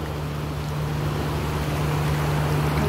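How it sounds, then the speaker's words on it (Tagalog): Strong waves washing steadily against the shore in Hong Kong, a dense continuous rush of water with a low engine-like hum underneath, fairly loud and without voices. "Okay, so ang lakas ang alon."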